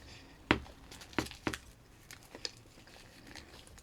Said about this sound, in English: There's a crunch.